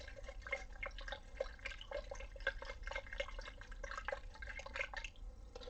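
Water holding moldy dye material is stirred in a container for an indigo vat, giving soft, irregular sloshing and dripping splashes throughout, faint and close with no voices.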